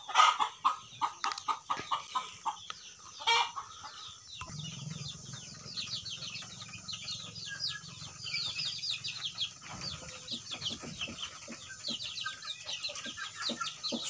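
Free-range black-meat chickens raised naturally on a farm cluck repeatedly in a lively, overlapping flock, with a few louder calls up close and steady chatter continuing throughout.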